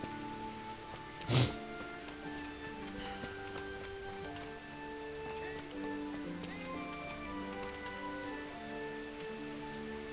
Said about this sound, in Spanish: Ahora parece que está lloviendo.